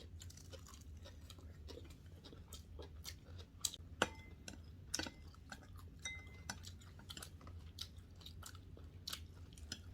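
Someone chews young prickly gasi-ogapi shoot namul greens wrapped in seaweed, with soft close-up crunches and mouth sounds, a few light clicks of utensils, and no talking.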